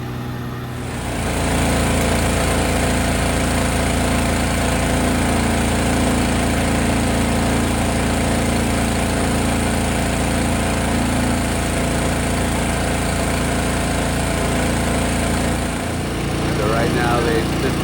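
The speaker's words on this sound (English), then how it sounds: "the loud noise obviously is the pump that's pumping that mixture through this hose" A hydroseeding pump forces a seed and water mix through a hose, making a loud, steady engine-driven drone that starts up abruptly and runs continuously, with a brief dip near the end and faint voices underneath.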